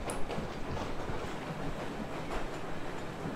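Moving train in the video game Metro Exodus, a steady broadband rumble and rattle of the carriage rolling along, with no speech over it.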